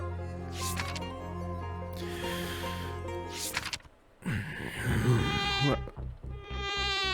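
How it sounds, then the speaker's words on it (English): Mosquitoes whine in a game scene from WILL: A Wonderful World, a thin sustained buzzing layered over a tonal ambient bed, dropping out briefly before returning louder and wavering near the ear. "The annoying mosquitoes kept interrupting my thoughts."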